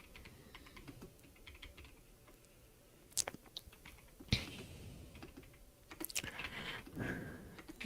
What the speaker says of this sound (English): Does my keyboard sound satisfying?